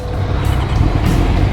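A V-twin motorcycle engine running with a loud, steady low rumble, close by and heard on its own for a brief moment.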